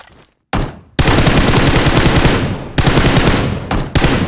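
Loud, close automatic gunfire from the mobile shooter game PUBG Mobile rattles in long rapid bursts, broken by a couple of brief silent gaps.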